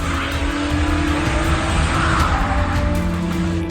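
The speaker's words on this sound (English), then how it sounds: "One car crashes into another on the road, sending it flying away while it skids into the lot, smashing all the parked cars in its path." A car skids and slides out of control into a lot of parked cars, its tires squealing in one continuous, loud scrub with engine noise beneath, close by.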